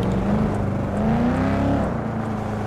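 An Överflöd Entity MT, a Koenigsegg Jesko-based supercar in a racing video game, pulls away from fourth gear, its engine droning loud and steady with a rising whine that dips near the end.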